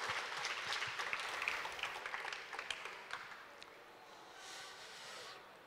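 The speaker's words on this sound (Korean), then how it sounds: "박수 한번 쳐주시죠" Audience at a lecture in a library applauds, a dense wash of clapping from many hands that swells and then gradually thins and fades out.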